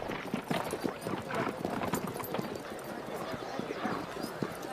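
Horses clatter past at a Naadam festival horse race near Ulaanbaatar, Mongolia, with rapid hoofbeats in a continuous, busy rhythm, loud and close amid crowd noise and talk.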